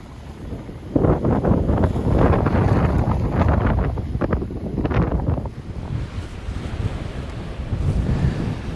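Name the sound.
big waves against wind at Silloth shore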